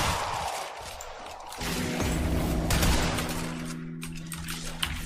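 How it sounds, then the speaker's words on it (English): Gunfire in the real-time strategy game Starcraft, a steady rattle of rapid automatic shots running through most of the stretch amid battle noise, fairly loud and continuous with no talking. "Our forces have opened fire."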